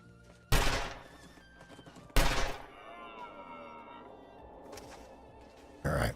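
Rifle shots ring out in a hunting video game: two sharp, loud blasts spaced about a second and a half apart, each trailing off, then a third abrupt report at the very end.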